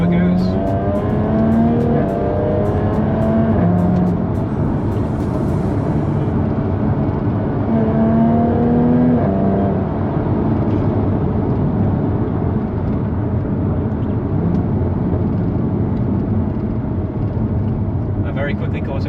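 Jaguar F-Type driven fast in sports mode on an open road, engine droning steadily and loud from inside the car with rising and falling revs, road and wind roar beneath.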